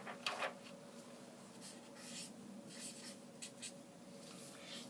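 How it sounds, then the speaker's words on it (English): Pen writing a measurement onto paper while working out pleats for a drape, faint scratchy strokes in short bursts, close and quiet, with no talking. "You write down 52."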